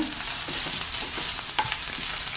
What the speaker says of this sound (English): Starting off with some carrots in my Our Place pan.